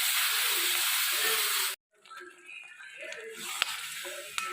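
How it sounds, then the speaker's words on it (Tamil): Ground masala paste frying in hot oil in a pan for a raw plantain dish, a loud steady hiss and sizzle that cuts off abruptly, then returns as softer crackling with a few sharp pops. "நம்ம அரைச்சி வச்சுருக்க இந்த மசாலா, இதையும் இதோட பச்சை வாசனை போகிற அளவுக்கு நல்லா வதக்கிக்கணும்"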